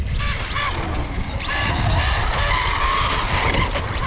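A Traxxas Monster Slash 4x4 RC truck on big tires drives fast, its electric motor whining loudly and steadily throughout, with tires skidding and scrabbling as it tries to lift onto two wheels.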